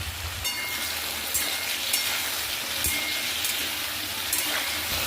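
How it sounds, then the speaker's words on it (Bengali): Pieces of taro seasoned with salt and turmeric fry under a cover in a pan, a soft steady sizzle with faint crackles and occasional sharper pops, quiet and without speech. "কচুগুলো আমি একটু ঢাকা দিয়ে দিয়ে ভেজে নেব"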